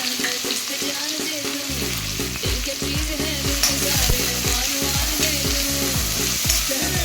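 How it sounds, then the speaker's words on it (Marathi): Chopped onion and garlic frying in oil for a spicy chana masala, a steady sizzle with repeated stirring scrapes and clinks against the pan throughout, no voices. "कांदा आपण व्यवस्थित भाजून घेऊया"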